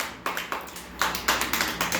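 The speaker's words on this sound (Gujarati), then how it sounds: "તાળી પાડો." Small children at an anganwadi preschool clap their hands in a quick, fairly regular rhythm of about ten soft, nearby claps.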